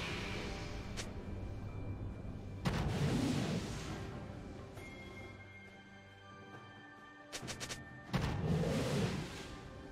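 Turret destroyed in League of Legends during an Udyr versus Aurelion Sol top-lane match: heavy booming blasts and crumbling bursts over steady game music, with a second cluster of sharp hits and another explosion later.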